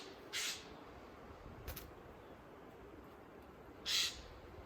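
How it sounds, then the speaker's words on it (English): Woodland bird calls, probably startled birds, come as two loud harsh bursts near the start and end with a fainter call between, over quiet background hiss. "I just scared a couple of birds."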